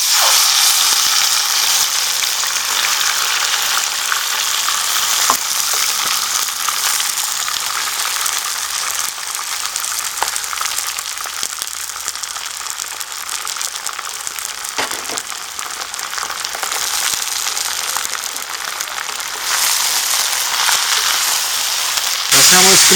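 Mutton pieces sizzle and crackle in hot oil in a pressure cooker, a loud steady frying hiss that continues for over twenty seconds with occasional stirring clicks.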